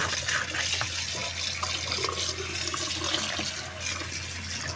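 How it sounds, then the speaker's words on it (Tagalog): Water runs steadily into a kitchen sink as cooked food is drained and rinsed, a continuous close splashing hiss with no talking. "at itataktak ko siya doon sa drain. Ayan, i-drain ko siya. Tapos, hugasan ko para hindi malabog masyado."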